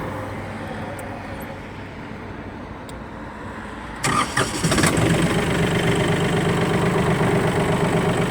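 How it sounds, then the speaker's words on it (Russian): A HINOMOTO tractor sits quietly before its engine cranks and fires about halfway through with a few sharp bursts, then settles into a steady, close, even idle. "Двигатель запускается с полоборота,"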